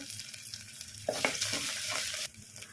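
Ginger garlic paste and curry leaves frying in hot oil, a soft sizzle that swells into a brighter, louder hiss for about a second while being stirred, then eases back down.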